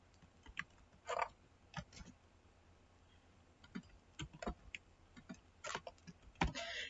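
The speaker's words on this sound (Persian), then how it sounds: "خب من در اینجا میخوام یک متن رو تایپ کنم." Computer keyboard typing while entering text into a Microsoft PowerPoint slide, with irregular bursts of soft, close key clicks and short pauses between them, quiet and free of speech.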